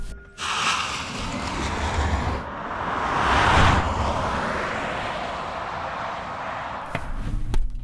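A 576-horsepower Kia EV6 GT in Sport Plus launches at full throttle, a surging whoosh of motor whine and road and wind roar that swells, then eases, with a sharp thump near the end.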